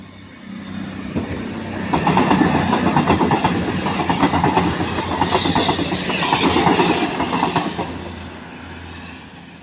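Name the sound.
Class 221 train 221 134 passing, Manchester Piccadilly to Bournemouth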